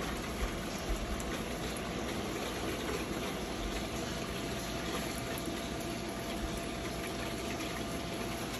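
Water forced under strong pressure through a very long hose, about a thousand feet, makes a steady, dense rushing roar that holds evenly for the whole stretch with no voices over it.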